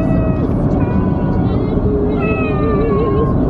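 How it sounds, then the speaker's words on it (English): A cat meows repeatedly in long, wavering cries over a loud, steady road rumble inside a moving car. "Also sounds like there's a cat in the back."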